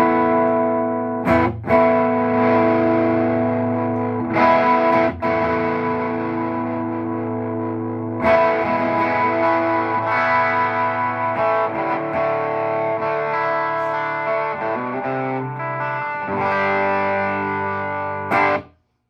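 Electric guitar played through an MXR Distortion+ or Pigtronix Fat Drive pedal, loud sustained distorted chords and notes with several sharp strums and string attacks, ringing alone before cutting off at the end.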